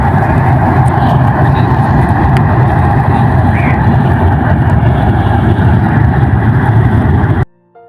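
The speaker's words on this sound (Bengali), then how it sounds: "আপনারা দেখতে পাচ্ছেন ট্রেন যাইতেছে" A train passes near the Padma bridge at Mawa with a loud, continuous low rumble that holds steady for several seconds and then cuts off abruptly. No talking is heard.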